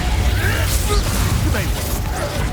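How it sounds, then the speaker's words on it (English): In Hogwarts Legacy, the Incendio fire spell goes off as a loud, close burst of crackling flame and impact noise among dense game effects and music, with a voice talking over the action. "Incendio!"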